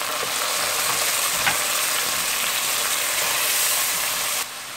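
Finely chopped tomatoes hit light-brown onions frying in a pan, giving a loud, steady, dense sizzle that runs throughout before dropping slightly at the very end.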